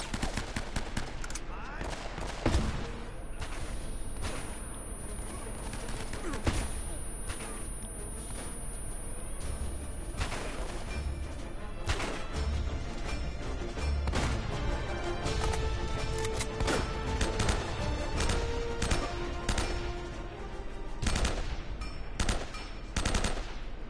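Sustained gunfire in the video game Uncharted: Drake's Fortune, dense volleys of sharp rifle and machine-gun shots cracking in irregular bursts over nearly half a minute, with loud isolated reports standing out against constant combat noise.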